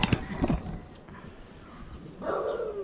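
Dogs bark in a few sharp, fairly close yelps at the start, followed by quieter whimpering and rustling, with a soft whine rising near the end.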